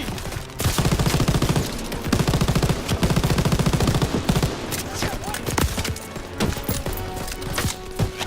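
Machine gun fire in the World War II shooter Call of Duty: WWII, a loud, close sustained burst of rapid shots for several seconds, then scattered shots and battle noise in a dense game soundscape.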